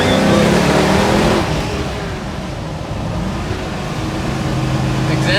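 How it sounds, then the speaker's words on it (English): A 1970 Ford Mustang Boss 302 with its original old-school small-block V8 rumbles loudly up close, a strong revving burst at the start that settles into a steady idle-like drone, with voices speaking over it. "I just wanted to build something that revved."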